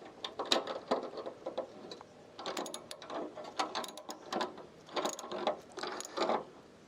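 Ratchet clicking in short bursts while tightening a solar panel mount on a roof, several rounds of rapid pawl clicks separated by brief pauses, close and moderately loud.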